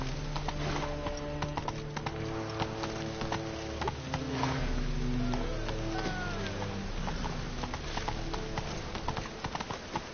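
Horse hooves clip-clop at a steady galloping rhythm in The Witcher 3, continuous and fairly loud over game music and ambient sound.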